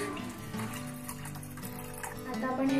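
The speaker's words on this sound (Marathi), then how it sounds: "अंदाजाने तुम्ही पाणी टाका" Water pours into a pot of homemade village-style egg curry with potatoes, a steady splashing stream that holds through the moment and grows a little louder near the end.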